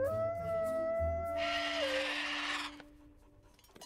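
A human voice imitates a dog howling, one long drawn-out howl that slides down at the end and fades, close and loud with no other talk.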